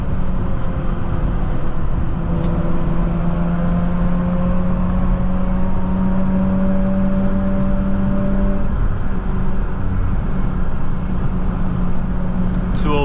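A Mazda RX-8 rotary engine pulls hard with traction control off, a loud steady drone inside the car whose pitch climbs slowly through the gear, then drops and starts rising again near the end.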